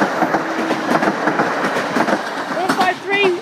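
A three-carriage Class 153 train bound for Nottingham rolls past a level crossing at Greylees, Lincolnshire, its wheels clattering rhythmically up close, with voices talking over it near the end.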